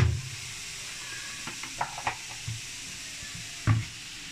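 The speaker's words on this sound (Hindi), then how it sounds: "थोड़ा सा ऑयल डाल के हम अपने चिकन को पैन में फ्राई करते हैं।" Chicken frying in a little oil in a pan, a low steady sizzle with a few clinks and stirring knocks, loudest bursts near the start and end.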